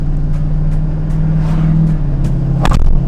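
A custom lifted truck's engine idles with a deep, steady rumble, then revs sharply near the end, heard up close from inside the cab with no talking.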